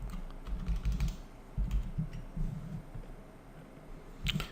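Typing code for a Bootstrap carousel on a computer keyboard, with bursts of quick, close key clicks separated by short pauses and no voices.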